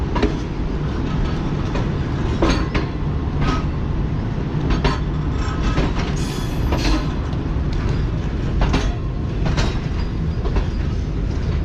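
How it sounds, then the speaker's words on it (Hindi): Tezgam passenger train pulling out of Sahiwal railway station, steady rolling rumble with clickety-clack of wheels over rail joints and occasional metallic squeals, continuous and close throughout. "तो फाइनली ट्रेन जो है वो निकल रही है साहिवाल रेलवे स्टेशन से।"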